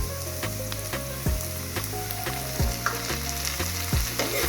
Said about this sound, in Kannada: ಟಮಾಟಿ ಹಾಕೊಂಡು ಎಲ್ಲ ಫ್ರೈ ಮಾಡ್ಕೊಂಡು ಎಲ್ಲ ಫ್ರೈ ಆಗೈತಿ